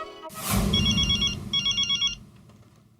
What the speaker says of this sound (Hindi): अभी मेहता साहब को फोन करता हूँ।